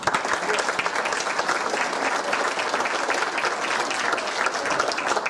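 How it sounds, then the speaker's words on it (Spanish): Audience at a history lecture on the Mexican Revolution gives a strong round of applause, steady dense clapping throughout with a faint murmur beneath. "para quien pido un fuerte aplauso"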